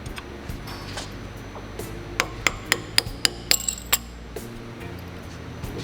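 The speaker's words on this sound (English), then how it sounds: "I'm gonna go ahead and take our little thin brass punch and a hammer." Hammer tapping a thin brass punch to knock loose the fork caps on 39mm forks from a 1999-2005 Harley-Davidson Dyna, about eight sharp metallic clinks in quick succession over a low steady background hum.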